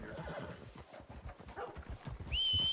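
A horse in Red Dead Redemption 2 clip-clops in quick, steady hoofbeats up close, then lets out a short whinny near the end.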